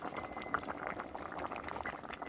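Curry simmers with a cumin and mustard paste stirred in, giving a soft continuous bubbling and popping of thick liquid, close and fairly quiet, with no talking.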